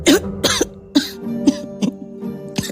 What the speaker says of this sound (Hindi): घनी खांसी उठ रही से तन्ने